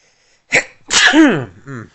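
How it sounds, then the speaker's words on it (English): A single loud, close sneeze bursts out with a sharp intake and forceful expulsion, followed by a short trailing vocal sound, alone in an otherwise quiet room. "Time for sneezing."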